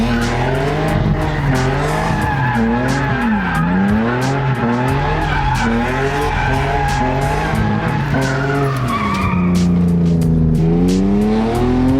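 BMW E36 328i convertible doing a burnout, a loud continuous tire screech over a rising and falling engine rev, close and sustained with no talking.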